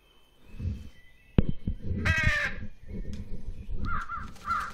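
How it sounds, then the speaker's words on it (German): Crows in the game Trüberbrook give a sharp, close caw sequence after a sudden knock, harsh repeated calls in a short burst, followed by fainter bird chirps over low ambient game sound. "Ich muss die Krähen nochmal machen lassen."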